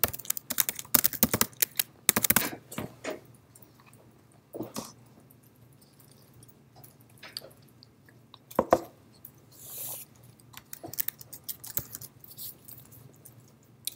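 Bursts of clicky typing on a computer keyboard as C++ code is entered during a programming lecture, uneven clusters of keystrokes separated by quiet pauses, close and alone without talk.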